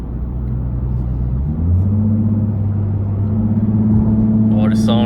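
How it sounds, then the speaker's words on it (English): A 2014 Ford Mustang's engine during a test drive, a steady deep rumble that steps up in pitch as it revs, heard from inside the car, with a voice briefly at the end. "Oh, the sound is so lovely."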